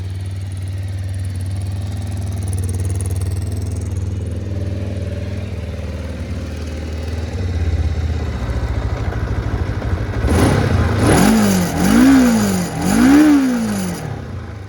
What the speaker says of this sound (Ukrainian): 2 циліндра, 500 кубічних сантиметрів двигун, 50 кінських сил